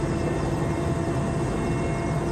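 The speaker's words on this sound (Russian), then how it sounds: "Вертолет приземлился на болоте, но за несколько километров от очагов возгорания." Helicopter of an aerial forest fire service landed on a marsh, giving a steady, dense broadband engine and rotor roar that stays loud and unbroken throughout, with no voices.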